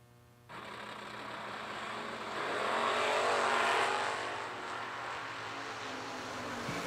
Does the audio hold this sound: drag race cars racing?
yes